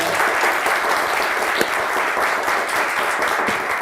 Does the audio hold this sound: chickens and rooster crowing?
no